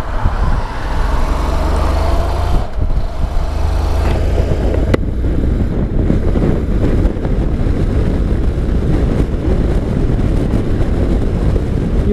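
Strong crosswind batters the microphone while riding a Honda NC700X motorcycle on a straight highway in Mato Grosso do Sul, giving a loud, constant roar of wind and engine with no break.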